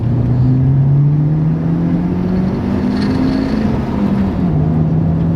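A manual-swapped Hyundai Genesis Coupe accelerates hard at full throttle in second gear. The engine drone climbs steadily and is loud and close inside the car, with a brief dip near the end.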